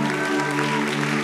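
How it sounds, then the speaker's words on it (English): Church congregation clapping during a worship session at a conference, dense and loud over sustained musical tones, brief and continuous throughout. "let's give the Lord a clap like he's touching a people."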